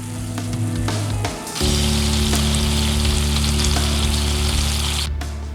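Hamburger patty ingredients cooking in butter and Worcestershire sauce in a pan: a loud, dense sizzle that briefly dips, then swells back and holds steady and close, with faint stirring clicks.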